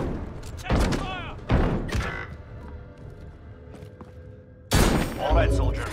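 Gunfire bursts in Call of Duty: Warzone, loud sharp volleys of shots arriving in a few separate bursts, with game voice lines and other talk heard between them.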